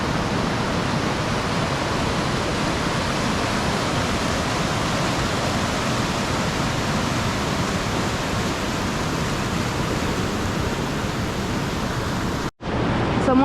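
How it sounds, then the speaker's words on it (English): Running river in the Canadian wilderness rushing steadily nearby, a dense broadband wash of water that stays loud and even before cutting out briefly near the end. "we're right next to a running river"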